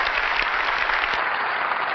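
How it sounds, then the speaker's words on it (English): Keynote audience applauding, a loud, steady burst of many hands clapping at once, dense and uninterrupted for a couple of seconds. "I'd just like to give them all a round of applause."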